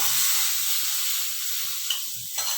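Hot tadka (tempering) is poured into sambar, bursting into a loud, close hiss and sizzle that fades slightly, with a couple of small pops near the end.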